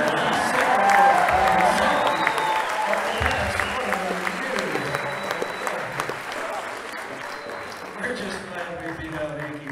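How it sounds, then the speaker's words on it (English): An audience at the Cerritos Center for the Performing Arts applauds a band after a song, with dense, steady clapping that slowly thins out and a few scattered voices in the crowd. "Thank you for your meager applause."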